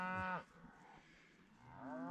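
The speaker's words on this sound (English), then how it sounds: "Sorry about the cows, they're pissed" Cows near an old Montana homestead give two close, loud moos, one brief and one rising at the end, separated by a quiet pause.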